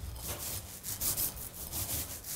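A paint roller is worked across an interior wall in a crisscross pattern, giving soft, close, sticky swishing passes in a steady uneven rhythm with no voices.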